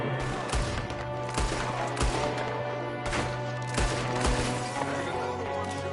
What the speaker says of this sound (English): Another one shooting from the window.